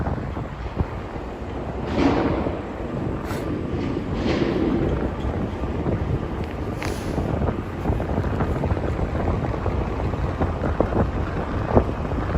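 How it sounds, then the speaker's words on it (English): Strong wind buffeting an outdoor microphone in New York City, a continuous rumbling roar with gusty swells and rustling, loud and close throughout. "the wind is really picking up now"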